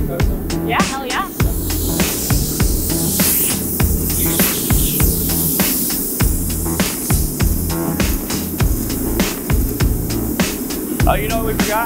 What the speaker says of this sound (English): we'll give these wheels one more blow off with the air